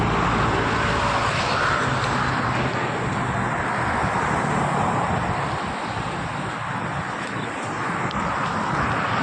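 A car driving on a road in Kuala Lumpur, a steady broad engine and road rumble with wind noise and no horns, fairly loud and continuous, no talking.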